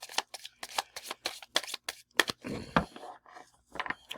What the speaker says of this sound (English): A little hard to shuffle.